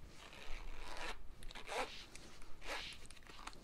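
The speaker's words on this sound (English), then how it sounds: "The zipper's pretty good." Zipper on a Targus laptop sleeve being pulled in several short, close rasping strokes, quiet and alone with no talk.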